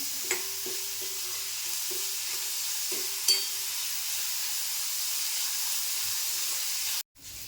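Onions, green chillies and garlic cloves frying in a pan, a steady close sizzle and hiss with a few soft stirring knocks, ending abruptly.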